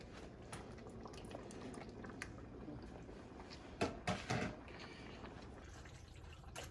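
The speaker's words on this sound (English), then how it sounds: "I just poured my pasta in." Dry pasta shells or bow ties poured into a pot of boiling water for pasta Bolognese, a steady bubbling roll with a few louder splashy bursts near the middle.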